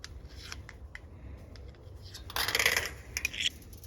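Close metallic scraping and clicking as barbed wire fence stays are twisted with a screwdriver, with a brief louder grinding rasp partway through.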